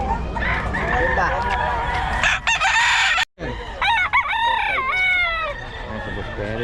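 Pumpkin Sweater gamefowl rooster, about two years old, crowing loudly and repeatedly up close, with other roosters crowing and a dog barking in the background while people talk.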